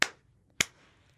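Two sharp hand claps about half a second apart during a children's English literacy song, crisp and close with brief decay and no voices between them.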